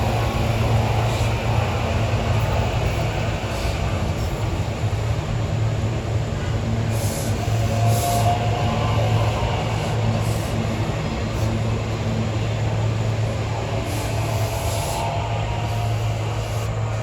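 SEPTA trains roll by steadily with a continuous low rumble and grinding wheel noise, joined by occasional faint high squeals, heard at moderate distance throughout with no talk.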